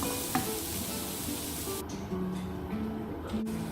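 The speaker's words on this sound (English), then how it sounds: "And you keep frying it, putting in the tomatoes." Tomatoes fry in a pan of lamb kofta curry with a steady, close sizzle throughout, joined by occasional soft scrapes and stirs.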